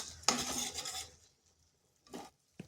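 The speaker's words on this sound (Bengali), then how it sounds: "ভালো করে একটু কষিয়ে নিচ্ছি।" Spice masala is stirred and sautéed in a pan for a cauliflower dish, first as a dense burst of scraping, then a pause and a short second scrape, close and quiet, with no talking.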